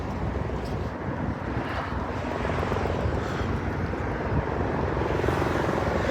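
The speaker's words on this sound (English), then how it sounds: "There's one of those helicopter tours again." Tour helicopter passing over the Las Vegas Strip, a steady broadband rotor and engine drone mixed with wind buffeting and city noise, holding at a fairly constant level throughout with no talk.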